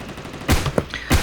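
Gunfire in the Bullet Force shooter game, a couple of sharp, loud shots cracking close by within about a second over faint background noise.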